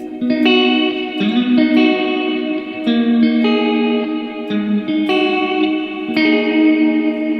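Clean electric guitar through the chorus setting of a Sonicake Warped Dimension modulation pedal, with a shimmering, swirling wobble, strummed chords ringing out steadily and fairly loud, no voices.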